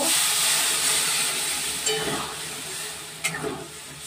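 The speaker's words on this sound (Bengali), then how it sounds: "এবারে আমি একটু জল দিয়ে দেব।" Water poured into a hot pan of chicken masala, giving a loud steady hissing sizzle and steam that gradually eases, with a couple of brief utensil knocks near the end.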